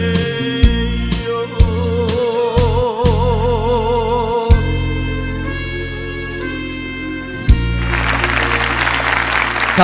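Audience applause at a Korean 7080-era pop song concert by a performing arts troupe; sung music with a wavering vocal line and band plays most of the time, then a burst of loud clapping rises near the end.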